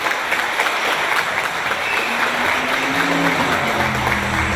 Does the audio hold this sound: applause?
yes